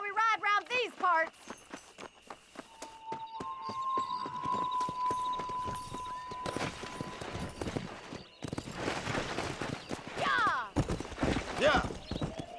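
Horses ridden in the Western video game Red Dead Redemption, with a neigh, then a steady clip-clop of hooves that picks up pace, over music and character voices talking.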